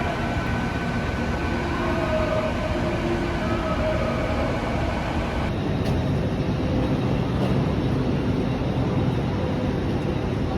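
Steady, continuous rumble and rolling hum inside a moving train, unbroken for about ten seconds, with no talk.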